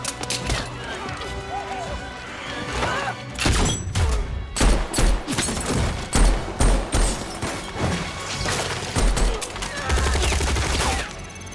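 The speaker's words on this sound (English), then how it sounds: "A fierce shootout erupts" A movie shootout fills with rapid bursts of gunfire and heavy impacts under a dense score, loud and chaotic, with repeated sharp cracks clustered mid-scene.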